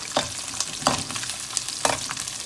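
Onion cubes and garlic frying in oil in a pan, a constant crackling sizzle punctuated by three regular scraping strokes of a spatula, nearby and clear with no talking.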